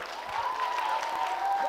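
A quiz audience in a Jaipur hall gives sustained applause, a smooth, moderate wash of clapping over a faint tonal hum, lasting the whole short moment.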